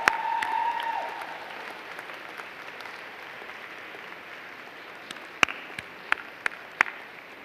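A graduation audience applauds, a dense wash of clapping loudest at the start and slowly thinning, with a few sharp louder claps near the end and a brief tone early on.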